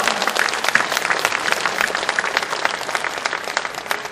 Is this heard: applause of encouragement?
yes